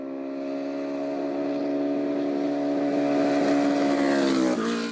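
A 46-year-old inline-four motorcycle engine howls at high revs, a loud, steady, harmonic-rich wail held close by for several seconds before dipping sharply at the end.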